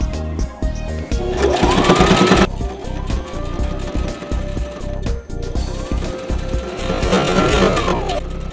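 A sewing machine stitches along the folded lining edge of a canvas tote in two bursts of steady, fast whirring, with a quiet pause between them and no talk.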